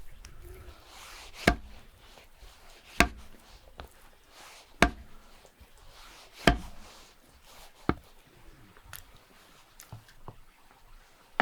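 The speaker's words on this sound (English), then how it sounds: "Everything is expertly sliced" A knife slices food scraps outdoors, sharp distinct chops landing roughly every one to two seconds, each a crisp impact over a quiet background with faint softer cuts between.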